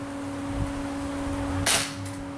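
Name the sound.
airsoft BBs shot at failed 3D-printed target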